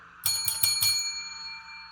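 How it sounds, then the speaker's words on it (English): A bell is rung four times in quick succession to mark a completed savings challenge, the bright dings close and clear, then the ringing tone fades out alone. "And we get to ring that bell."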